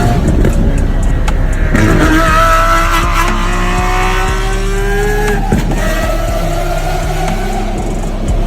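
Loud, close roar of a red Lamborghini SVJ supercar, with sustained engine tones rising and falling as it revs, plus squeal-like tonal sweeps over continuous traffic-like noise.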